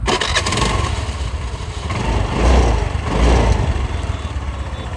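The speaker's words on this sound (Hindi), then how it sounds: "ये देखिए स्कूटर स्टार्ट हो जाएगा।" A scooter engine started with the ignition on but no key in place, cranking into a loud, close, rough idle that surges twice, with no talk over it.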